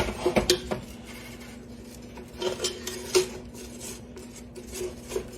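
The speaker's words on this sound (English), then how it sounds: "All right, my butter's not quite melted yet. Stirring constantly. I'm stirring" A utensil stirs melting butter for caramel icing in a metal pot, making scraping clinks and taps in uneven bursts, close by, with no one talking.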